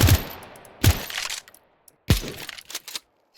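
M249 machine gun firing in Counter-Strike 2: three loud, close bursts spaced about a second apart, each a sharp crack that drops into rattling decay, with a few small clicks and clinks between them.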